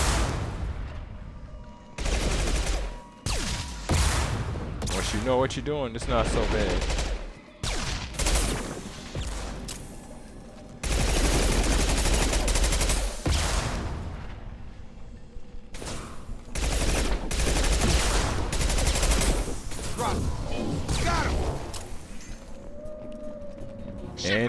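Burst-fire weapons in the Mass Effect 2 game crack out in repeated sharp volleys. Someone talks between and over the shots, and the firefight carries on throughout.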